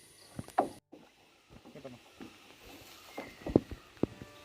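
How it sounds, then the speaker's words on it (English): A long wooden stick stirs jaggery and waste decomposer starter culture in a container of water, making close, intermittent sloshing swirls and hollow knocks against the sides. "I'm using this long wooden stick to stir the container"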